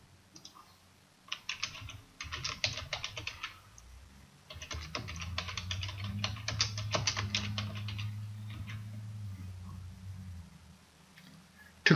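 Clattering computer keyboard typing comes in quick bursts separated by short pauses, close and clear, with a low hum underneath and no talking.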